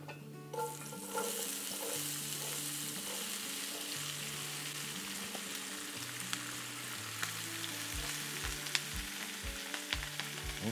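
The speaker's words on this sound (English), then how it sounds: "let's start by sauteing the onions" Onions sautéing in olive oil in a skillet on high heat, a steady soft sizzle with faint occasional spatters and clicks, fairly quiet and without speech.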